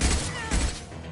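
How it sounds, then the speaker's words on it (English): A concussive shot ability fired in Mass Effect, heard as a heavy booming blast with a deep low-end thump, then a second impact and a fading rumble, loud and close. "Firing concussive shot!"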